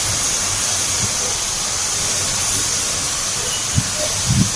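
Spray gun laying a final clear coat on an MG Comet car, a loud steady hiss of atomized spray throughout, with a few faint low knocks near the end.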